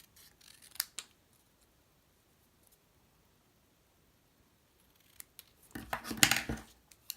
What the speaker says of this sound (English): Now I'm going to take my snips and I'm going to very carefully cut out just